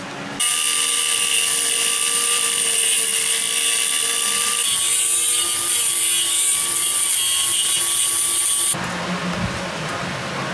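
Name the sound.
power tool cutting drainage slots in a rear axle differential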